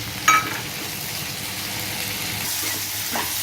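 Ivy gourd being sautéed with masala in a pan gives a steady, soft sizzle throughout, with a brief clatter of stirring near the start and a few faint scrapes toward the end.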